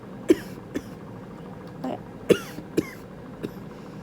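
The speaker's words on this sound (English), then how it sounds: "still coughing, as you can see" Several short, dry coughs spaced irregularly a moment apart, fairly quiet and close, with a brief throat-clearing sound among them.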